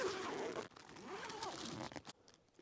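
A zipper on a Dollar Tree winter shelter is pulled open or closed at close range in a couple of quick rasping runs, followed by rustling fabric and a soft crinkle before the sound drops away.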